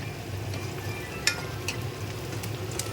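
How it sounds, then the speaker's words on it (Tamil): Chicken simmers in a pot for biryani, giving a steady low bubbling with faint scattered pops and ticks. The sound is quiet and close, with no talking. "சிக்கன் கொதிக்குது."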